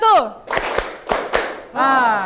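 After a spoken cue, a class claps together in a few crisp, unison claps with short gaps between them, then a voice speaks again.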